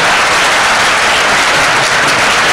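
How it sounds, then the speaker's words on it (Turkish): A hall audience claps loudly and continuously to welcome the mayor, a dense unbroken roar of applause with no pauses. "Başkan, daha sonra söyleşinin yapılacağı OSB salonunda alkışlarla karşılandı."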